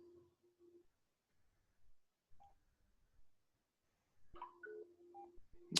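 A phone dials a string of touch-tone beeps, faint at first and then a louder, closer burst near the end, with no talk in between.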